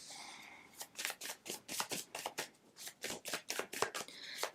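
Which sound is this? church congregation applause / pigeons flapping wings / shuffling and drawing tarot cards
shuffling and drawing tarot cards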